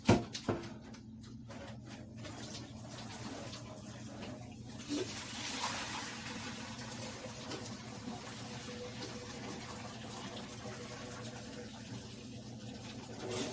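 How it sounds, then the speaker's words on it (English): Hot water poured off cooked noodles into a sink, a steady rushing splash that runs on at moderate level for several seconds after a few sharp knocks at the start. "And pour this water off of these noodles."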